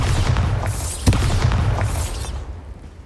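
A Bombarda blasting spell explosion in Hogwarts Legacy booms with a heavy low rumble and a sharp crack about a second in, followed by crackling debris and swooshing magic that fades over three seconds, with no talking.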